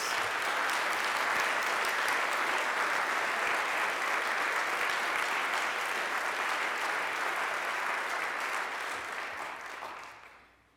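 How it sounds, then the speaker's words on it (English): Audience applause for singers at a community remembrance program for Martin Luther King Jr., a long, full, continuous round of clapping from a large crowd that holds steady before fading out at the end. "please join me in another round of applause for our wonderful singers."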